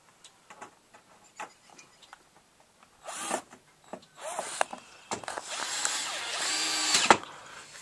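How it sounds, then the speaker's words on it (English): A power drill drives screws during wind damage repair on a house: scattered clicks and taps at first, then several short close whirring bursts from the drill, growing louder toward the end. "Okay, so we're putting screws in there now."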